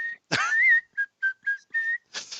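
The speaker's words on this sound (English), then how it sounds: "it's quite loud for a little wooden whistle" A small lathe-turned wooden whistle blown loudly and up close in a quick run of short, shrill toots, one longer blast first, then several clipped blasts, ending in a breathy, airy burst.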